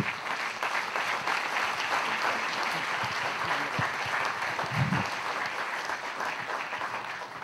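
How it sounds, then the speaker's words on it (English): An audience gives a steady, sustained round of applause welcoming veterans of the OSS at a 2008 event, dense clapping continuing evenly for several seconds. "please give them a nice round of applause as we welcome them here today"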